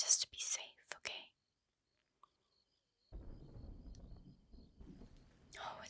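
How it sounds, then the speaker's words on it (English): Low, soft thunder rumbles in from a distance during a stormy night, a muffled rolling swell lasting a few seconds after quiet whispering fades. "Oh, it's thundering."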